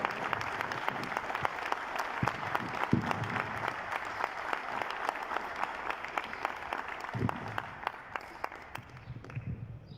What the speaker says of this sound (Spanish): Saludamos y aplaudimos el informe de nuestro secretario general, Marcelo Abdala.